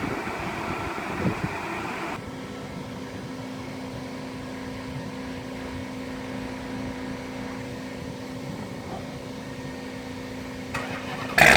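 A cooling fan runs beside a 2016 Hellcat on a dyno, producing a steady whirring hum with a faint tonal whine that continues evenly, with a brief knock near the start and a sharper bump at the end.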